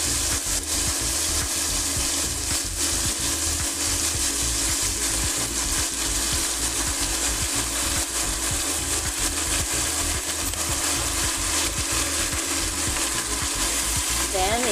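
String beans sautéing in a pan with soy sauce and Maggi seasoning, a steady close sizzle with rhythmic scraping and stirring of the spatula throughout.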